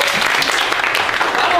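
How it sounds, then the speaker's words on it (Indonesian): Classroom of high school students clapping their hands together, a loud continuous burst of many hands close by, lasting only a moment. "jadi gue mau semangatnya boleh tepuk tangannya dulu."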